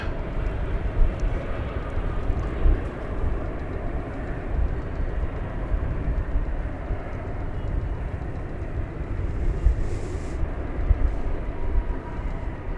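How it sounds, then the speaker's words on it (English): A Frontier airliner on evening approach at Dallas Fort Worth airport produces a steady, broad rumbling roar that stays fairly even throughout, with no talk. "here comes a Frontier flight"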